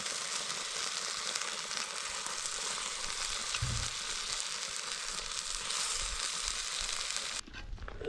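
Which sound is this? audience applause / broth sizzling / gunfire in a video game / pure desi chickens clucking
broth sizzling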